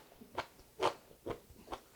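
A crunchy steamed broccoli stem is bitten and chewed up close, four distinct crisp crunches spaced about half a second apart, quiet and with no talking.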